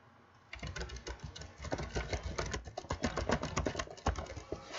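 Rapid typing on a computer keyboard, a dense run of quick key clicks and taps close by with an uneven patter, starting after a brief quiet moment and continuing without pause.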